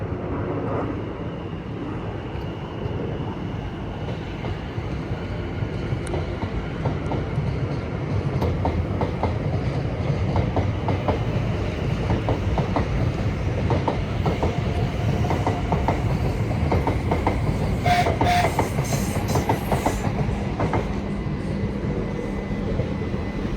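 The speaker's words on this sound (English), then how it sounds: "As 701-020 heads off to Guildford, and 701-043 to London Waterloo." Class 701 electric units pull away from Clapham Junction, a long steady rumble with rhythmic wheel clatter and brief higher squeals and whines, close and loud throughout.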